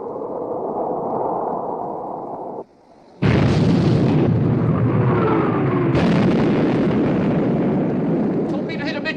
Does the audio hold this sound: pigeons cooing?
no